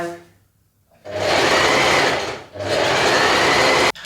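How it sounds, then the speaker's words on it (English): A sewing machine stitches a seam on a kaftan dress in two steady bursts of rapid whirring, close and loud, separated by a brief pause and ending with a sharp click. "And then we're going to continue to sew."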